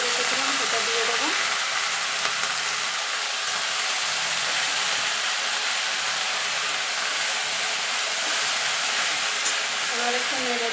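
Water spinach sizzling as it goes into a pan with already-fried onion, a steady broadband hiss of frying oil running continuously at close range, with faint background voices at moments.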